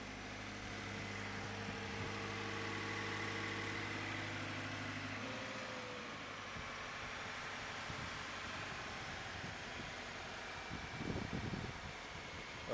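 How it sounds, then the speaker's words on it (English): Steady idle of a 2014 Scion FR-S with a six-speed, a smooth low engine drone heard up close for several seconds, shifting slightly midway and ending with faint rustling handling noise. "let's go hear the engine"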